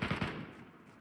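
Gunfire in PUBG Mobile Metro Royale: a quick burst of three or four close automatic shots, then a fading reverberant tail.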